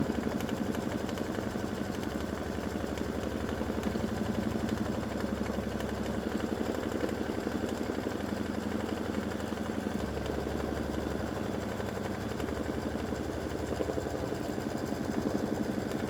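An embroidery machine tacking down appliqué fabric, running with a continuous fast mechanical whir and rapid stitching vibration at close range, with faint shifts in pitch and no talking.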